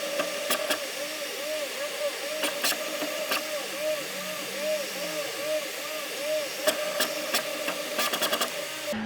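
A 3D printer running a print of a custom GPU shroud, its stepper motors whining in steady looping sweeps over a constant fan hum, with occasional sharp clicks and ticks, close and fairly loud throughout.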